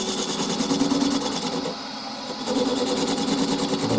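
Power drill widening a 12mm hole in a jug, a steady close motor whine with a brief dip in pitch and load midway, no talking.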